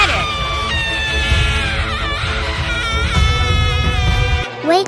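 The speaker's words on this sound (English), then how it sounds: "Evil Barbie is very fast and her loud screams can be shocking." Evil Barbie's jump-scare scream in a video game: a loud, sustained shrill shriek with wavering pitch, held for several seconds over game noise before cutting off abruptly.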